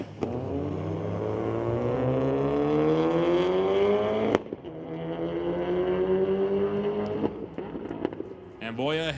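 Volkswagen Scirocco and Mitsubishi Lancer drag racing down a track at a street-legal night at Mission Raceway Park, engines screaming through rising gears with a shift break midway, loud and sustained, under a commentator's voice.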